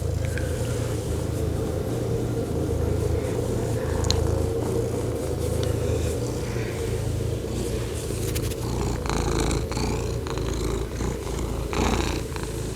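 A cat purrs right up close, loud and steady for the whole stretch with a low rumbling rhythm, and a few light scrapes and rustles come near the end.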